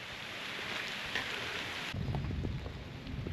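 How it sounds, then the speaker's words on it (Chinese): Steady rain falls along a forest trail near a waterfall in Meishan, Chiayi, Taiwan, a dense continuous hiss that grows fuller and heavier partway through, with no talk. "這邊在下雨。"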